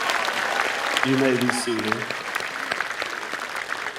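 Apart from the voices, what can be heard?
applause at high school commencement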